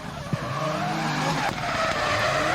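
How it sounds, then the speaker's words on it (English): A drift car in a Borneo drift competition skids with a sustained squeal of tires, a continuous loud screech alongside engine roar lasting the whole short stretch. "That massive angle transition by Mr. Puig put Zen High off and made him spin out."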